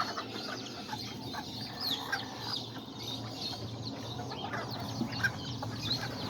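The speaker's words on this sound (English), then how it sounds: "These are the little hens, little roosters, little hens" A flock of young hens and roosters, sons of small orange and white birds, chatters in soft clucks and chirps over a steady background hum. The birds sound close and moderately loud, and nobody talks.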